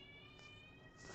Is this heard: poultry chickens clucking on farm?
no